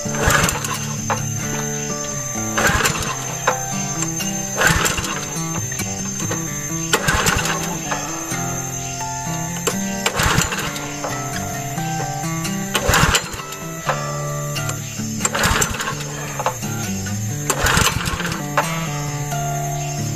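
A new pesticide sprayer pump's small engine is started and runs loudly, a steady buzzing drone with rhythmic surges about every two and a half seconds and no talking over it.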